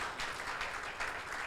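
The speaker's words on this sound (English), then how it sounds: "Round of applause." An audience at a pitch event gives a round of applause, a steady wash of many hands clapping at moderate distance, fairly soft, with no talking.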